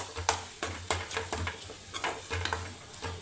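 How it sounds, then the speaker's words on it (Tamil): Dried fish thokku being stirred in a pan over a low flame: repeated scraping strokes of a spoon against the pan over a soft, steady sizzle, close and clear, with no voices. "சிம்மில் வச்சுட்டு லோ ஃப்ளேமில் வச்சுட்டு நல்லா அப்படியே கிளறி விட்டுட்டே இருக்கணும்"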